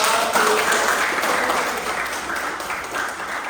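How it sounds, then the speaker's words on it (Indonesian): A lecture audience at a lecturer certification session claps steadily for about three and a half seconds, a dense, even wash of hands that fades slightly toward the end. "Kasih tepuk tangan dulu dong."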